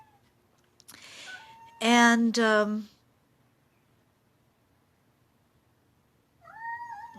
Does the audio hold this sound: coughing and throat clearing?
no